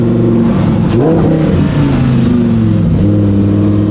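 Loud, close Lamborghini engine revs up and then settles, the exhaust note rising and dipping in pitch with a brief crackle, heard alone.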